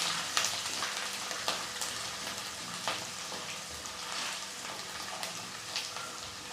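Whole garlic cloves and spices frying in a pan for tomato thokku, a continuous dense sizzle with small pops and occasional stirring scrapes, close and even throughout, with no voice.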